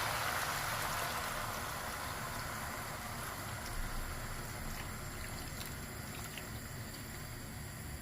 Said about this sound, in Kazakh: Астын шамалы су құямыз.